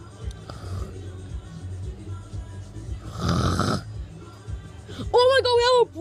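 A voice imitates snoring with one drawn-out, rasping snore in the middle of a comedy sketch about a lazy police officer, set among other vocal noises and ending with a high, warbling squeal.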